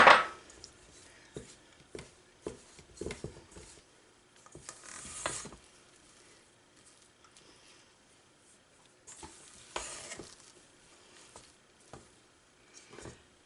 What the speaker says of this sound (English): we're going to mix this together till we have a dough